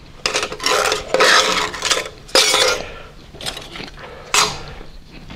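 Metal slitting saws, small metalworking cutters, clink and rasp against each other as they are handled, several close bursts of scraping metallic jangling separated by brief pauses.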